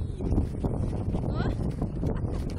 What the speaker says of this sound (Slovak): Fúka dokolo, fúka.